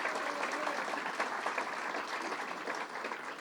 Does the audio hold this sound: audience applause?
yes